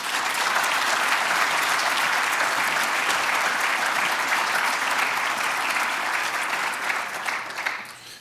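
An audience breaks into sustained applause to welcome President Robert Bottoms at a DePauw University event for prospective students, a steady dense clapping that holds loud and even before tapering off at the end.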